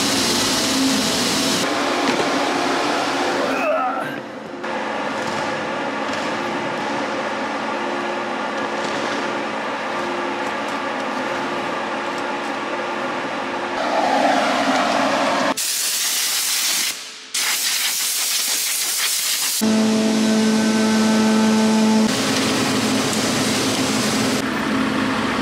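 A farm grain dryer runs during harvest, a loud, roaring hiss with steady mechanical hums underneath. It cuts out sharply for a moment midway, then starts back up just as strongly.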